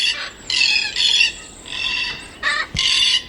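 A parrot gives a run of loud, harsh squawks in close succession, shrill bursts with short gaps between them and no other sound around them.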